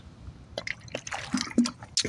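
Water is poured out in a short run of splashes and drips that land in irregular bursts, close and moderately loud, with no voices.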